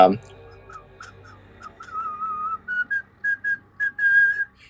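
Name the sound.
whistling a little ditty imitating a character walking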